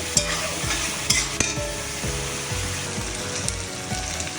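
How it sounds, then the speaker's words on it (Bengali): Spices for mutton ghugni being stirred in a hot pan, a steady close sizzle with repeated scraping strokes of a spatula and a few sharper knocks against the metal. "সবগুলো দিয়ে ভালো করে নাড়াচাড়া করে নেব।"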